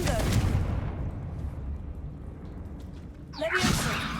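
Confringo fire spell cast in Hogwarts Legacy, a heavy explosive blast with a long rumbling tail that fades, followed by a second sharp burst and crackle near the end.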